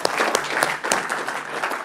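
An audience at a London Transport Museum aviation workshop gives a short burst of dense, close applause for a gold sponsor, steady claps filling the whole moment.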